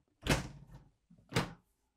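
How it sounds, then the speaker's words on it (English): Pantry cabinet doors in a 2024 Newmar Canyon Star motorhome opening, two quiet distinct thumps with light rattles about a second apart, no talk over them. "Our pantry cabinet doors."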